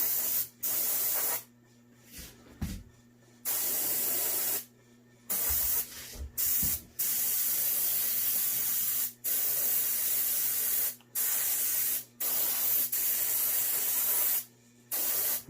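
An aerosol can sprays coating onto an artificial skull in a long run of loud, close hissing bursts separated by short pauses.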